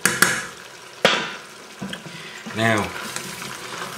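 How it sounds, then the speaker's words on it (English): Chicken liver pâté base cooking in butter with thyme and garlic, a gentle sizzle after a couple of sharp knocks and a brief scrape, with someone talking over it. "Now we've just added the garlic. So I'm just going to let that sweat on for a couple more minutes"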